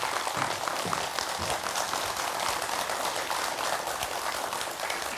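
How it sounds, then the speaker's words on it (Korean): Applause from a lecture audience welcoming a forest interpreter to a KBS Mokpo public lecture series, a steady, fairly soft wash of clapping that keeps going through the whole stretch with no voices. "큰 박수 부탁드립니다."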